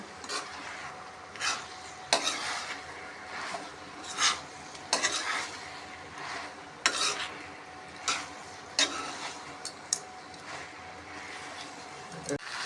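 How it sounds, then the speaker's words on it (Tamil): Chilli parotta with torn parotta pieces being stirred and tossed in a hot pan, with repeated scraping spatula strokes over a low sizzle, moderately loud and close, and a voice talking faintly at times. "நல்லா மிக்ஸ் பண்ணிக்கலாம் நல்லா கிளறி விட்டுக்கலாம்"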